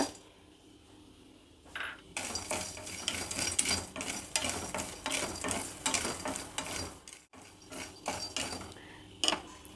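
Peanuts dry-roasting in a pan, stirred with a spoon: a rapid, close rattle and scrape of nuts against metal in repeated bursts after a quiet opening.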